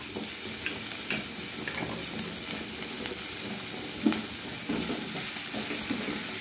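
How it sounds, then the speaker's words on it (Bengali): Chopped ginger, onion and garlic frying in a pan, giving a constant crackling sizzle punctuated by scattered clicks and taps of stirring, with no speech. "পেঁয়াজ রসুনটা একটু ভেজে নেব।"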